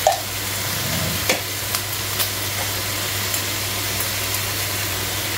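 Chicken feet stirred in a pan, with a steady sizzle and a low hum throughout and a few distinct scraping knocks from the utensil spaced across the stretch.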